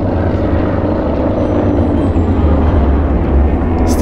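An airplane drones overhead in the zombie game Dying Light: The Following, a steady loud low rumble filling the whole stretch with no talking.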